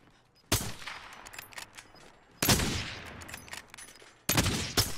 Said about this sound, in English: John, let's shoot this jug.